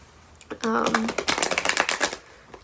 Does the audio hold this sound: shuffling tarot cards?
yes